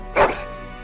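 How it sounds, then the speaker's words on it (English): A single short bark from a dog in the Dragon Age Origins video game, loud and close, with a soft music bed underneath. "That is a wonderful dog."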